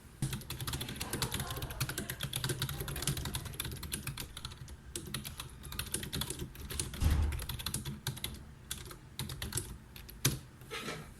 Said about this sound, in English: Now, it's finally time to type some words.